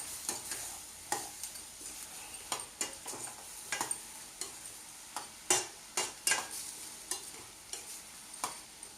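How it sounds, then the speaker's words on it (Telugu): Onions and green chillies stir-fried in a pan for a chickpea curry, a spatula scraping and clacking in repeated strokes over a steady close sizzle, with no one speaking. "ఇప్పుడు 5 చీరుకున్న పచ్చిమిర్చి వేస్తున్నానండి. ఆ తర్వాత కలుపుకుంటున్నానండి."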